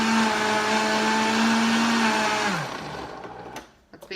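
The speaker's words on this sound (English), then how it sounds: "flaxseed goes rancid quickly, so I want to grind my own meal" A small electric grinder whirs steadily as it grinds flaxseed into meal, a loud continuous motor drone that winds down and stops near the end, leaving faint rattles.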